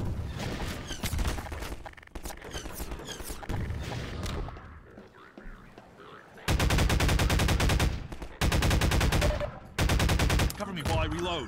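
Bursts of automatic gunfire in a Half-Life 2 co-op game, loud rapid volleys alternating with quieter stretches of scattered shots and game noise, with brief talk from players mixed in.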